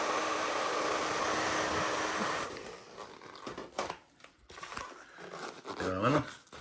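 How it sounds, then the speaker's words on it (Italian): A hair dryer blows steadily as it heats old vinyl on the interior wall of a 1980 Hymer camper, a continuous loud whoosh for a couple of seconds, then crinkling, peeling and handling noises with a voice talking over them. "scaldiamolo col phon che viene via molto più facilmente"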